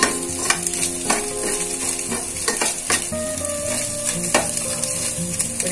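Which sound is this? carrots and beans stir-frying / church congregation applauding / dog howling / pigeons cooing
carrots and beans stir-frying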